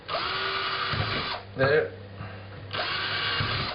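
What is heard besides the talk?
power drill drilling holes in bracket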